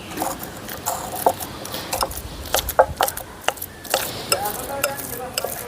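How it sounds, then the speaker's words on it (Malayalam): Ripe banana mashed by hand in a bowl for an Unnakkaya snack: irregular soft squelches, knocks and scrapes, close up and moderately loud, with no voices. "ഈ പഴം നമ്മൾ ഉടയ്ക്കുന്നു കേട്ടോ."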